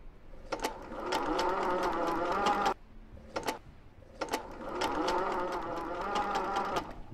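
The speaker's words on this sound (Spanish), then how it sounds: "Máquina de coser." Sewing machine whirring in a video game set in an old manor, two long steady mechanical runs broken by a short pause and a brief burst, fairly close and even in level with no voices.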